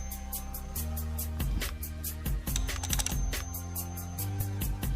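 Keys clack steadily on a Logitech K120 computer keyboard, a run of close, sharp taps in an uneven rhythm over a constant low electrical hum, with no speech.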